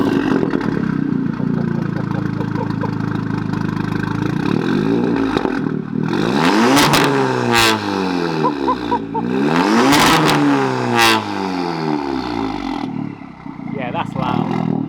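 An Audi S3 saloon starts up with its exhaust valves open, a loud close engine that fires and then revs hard several times, the pitch sweeping up and down with a clattery edge, while people talk over it.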